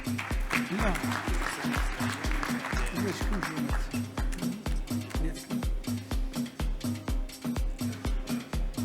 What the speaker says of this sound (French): il faut accompagner par les applaudissements